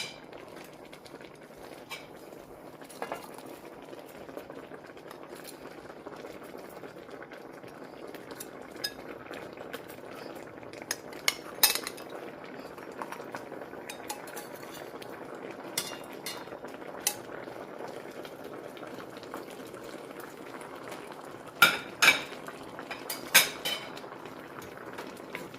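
Tilapia simmering in coconut milk in a pot for ginataang tilapia with bok choy, giving a steady low bubbling hiss, broken by occasional sharp utensil clinks against the pot, louder near the end.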